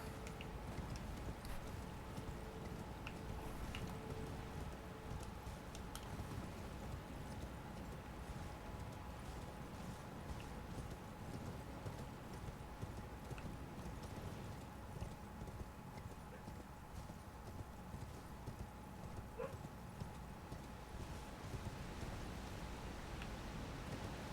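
Steady horse hooves clip-clop at a walking pace in Elden Ring under a low ambient hum, quiet and continuous.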